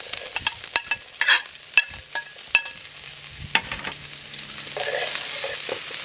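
Sweet corn, scallion, onion, thyme and Scotch bonnet pepper fry in oil in a pot while being stirred, with irregular sharp spoon scrapes and clinks over a continuous close sizzle that grows steadier toward the end.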